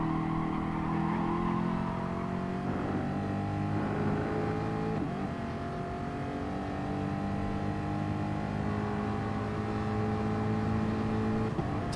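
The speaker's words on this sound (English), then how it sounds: "So Mustang v Mustang here at the moment." Ford Mustang race cars battling wheel to wheel at the Nürburgring GP circuit in a racing video game, engines droning and revving steadily with rising and falling pitch, sustained and moderately loud without talk.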